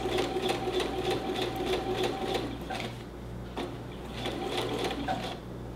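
A sewing machine stitches a curved seam on a fabric neck pillow, a close rapid rhythmic needle chatter over a steady motor hum, slowing and pausing briefly midway.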